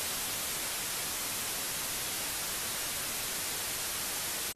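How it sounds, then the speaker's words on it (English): White noise test signal plays as a constant, even, bright hiss throughout, alone and unbroken until a brief cut at the very end. "And this is the white noise."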